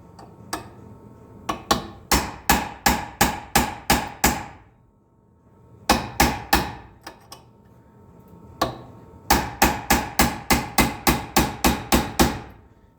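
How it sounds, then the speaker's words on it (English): A hammer strikes a chisel against a rounded fastener on an International pickup during a water pump job, with sharp close metallic blows in quick bursts of several evenly spaced hits separated by short pauses. "Try chiseling it now."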